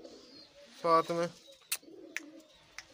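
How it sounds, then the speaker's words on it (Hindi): Two short bursts of a pigeon's throaty cooing close by, followed by a few soft clicks and brief rustles; a voice speaks briefly. "ये हमारा एक कबूतर है, ये पीछे पीछे आ जाता है"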